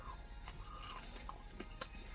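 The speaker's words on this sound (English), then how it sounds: "the coating sometimes takes away from the crunch of the popcorn" Close, quiet chewing of uncoated popcorn, a few soft crunches and bites scattered irregularly with one sharper snap near the end.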